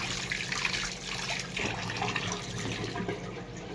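Hands being washed under a running tap, a steady broadband splash of water falling continuously at close range with slight shifts in the flow as the hands move, no voices.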